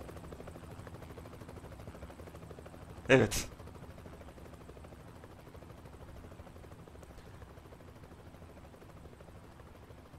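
A helicopter flies over the Grand Canyon in American Truck Simulator, a low, steady rotor drone running throughout with a brief loud burst near the start, while someone speaks briefly.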